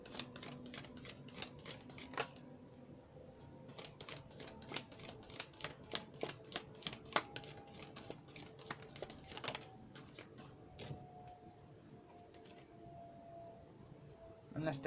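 Tarot cards shuffled close by in a quiet room, a rapid run of crisp riffling snaps and flicks that comes in bursts and then slows to scattered taps.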